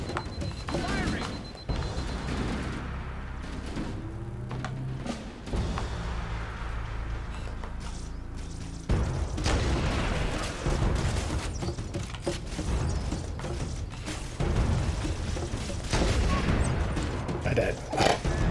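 Gunfire in a Halo video game battle against the Covenant, with rapid bursts, cracks and booms from weapons in dense clattering volleys, fairly close, with voices talking amid the fighting.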